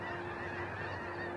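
A large flock of snow geese on the Berkeley Pit waters gives a continuous dense chorus of honks, steady and fairly faint as though heard from a distance, with no voices.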